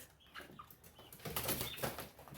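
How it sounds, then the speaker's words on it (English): Wings flap in bursts of rustling flutter, indoors and fairly close, growing busier and louder in the second half. "I hate raising chickens in my house."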